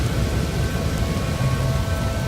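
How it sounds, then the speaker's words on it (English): Stormy weather in No Man's Sky: a dense, steady roar of rain with low rumbling thunder underneath, continuous and fairly loud with no voices. "Very stormy on top as well."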